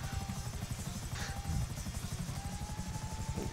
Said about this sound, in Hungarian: milyen gyorsan felmegy magasra ez a helikopter amúgy